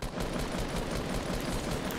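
Sustained automatic gunfire in Fortnite as players shoot at zombies, a fast, steady stream of close shots lasting about two seconds with no talk over it.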